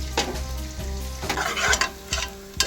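Steady sizzling of onions frying in a pan, with occasional scraping stirs, close up and with no voices.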